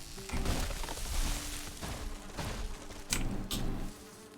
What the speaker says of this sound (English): And the beehive.